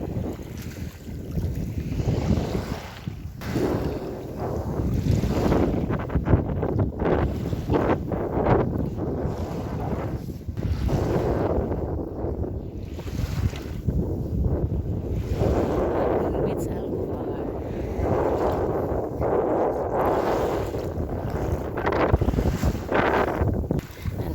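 Sea waves rolling onto a beach at Halfmoon Beach, a steady surging wash close by with heavy wind buffeting the microphone and swells rising and falling throughout.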